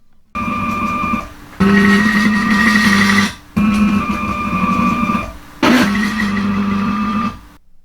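A loud mechanical motor of a stair-climbing robot prototype whirs and grinds in several bursts separated by brief pauses, with a steady whine riding over the clatter.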